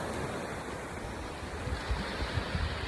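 Beach surf at low tide washes in a continuous soft hiss, with gentle wind buffeting the microphone and a few low thumps near the end.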